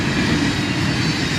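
Northbound military vehicle train led by a pair of KCS ET44AC locomotives, a steady, loud, broadband rumble of passing railcars and engines filling the whole stretch with no pauses.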